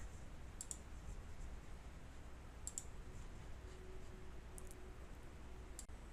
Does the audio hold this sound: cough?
no